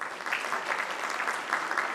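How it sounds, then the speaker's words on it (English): Steady, dense applause from a conference audience greeting the launch of a first-of-its-kind vehicle-to-grid technology demonstration at an inauguration event, sustained and even throughout with no voices over it. "Let's have a big round of applause for this."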